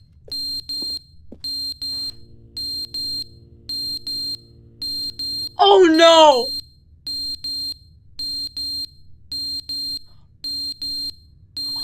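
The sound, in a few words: smoke alarm beeping in the video game The Stanley Parable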